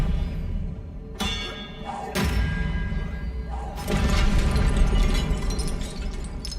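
An Expelliarmus spell cast in the Hogwarts Legacy video game lands as a few heavy thuds and bursting, shattering impacts with a bright crackle, loud and close.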